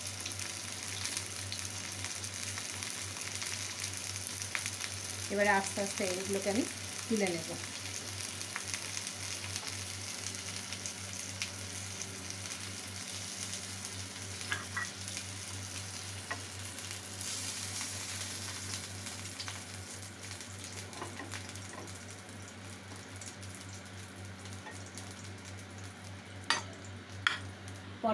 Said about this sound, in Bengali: এটাকে আমার হালকা করে ভেজে নিলাম।